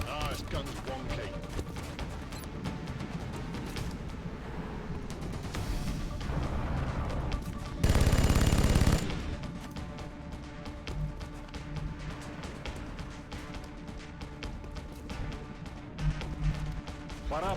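Bursts of gunfire from a faulty rifle in XCOM Long War, a dense crackle of shots under a steady game soundscape with one loud, sustained blast in the middle and a voice speaking at times.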